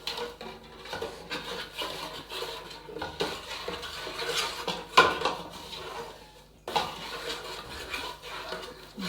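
Sugar roasts in a pot as a utensil scrapes and clinks against the metal, a close, moderately quiet stirring with a brief pause near the end.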